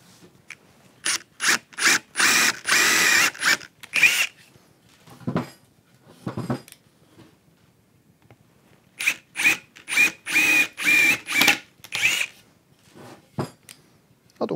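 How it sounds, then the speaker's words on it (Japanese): A power drill whirs in repeated short bursts boring holes in wood for a carpentry joint, stopping and starting, with occasional clatter of tools handled between the runs. "次に、ドリルですね、で穴を開けます。"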